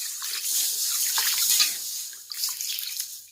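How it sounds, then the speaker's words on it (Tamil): Water pours steadily over green gram in a cooking pot, a continuous splashing trickle, close and fairly soft, with no talk. "இந்த பயிர் வேகிறதுக்கு தேவையான தண்ணி ஊற்றிக்கலாம்."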